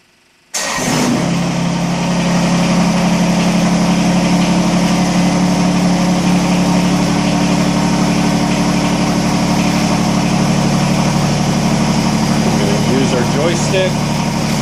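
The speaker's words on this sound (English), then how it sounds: "Gotta start the tractor up." A Kubota BX25D compact tractor engine cranks and catches after a brief silence, then settles into a loud, steady diesel idle that runs on without a break.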